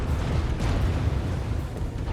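USS Albany cruiser guns fire in World of Warships, a dense, continuous rumble of booming shots and explosions rolling together at steady loudness with no clear gaps.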